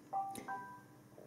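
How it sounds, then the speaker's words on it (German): A mobile phone gives a short melodic notification chime of a few clear electronic tones, faint and brief, in a quiet room at a tarantula fair haul. "Das war mein Handy."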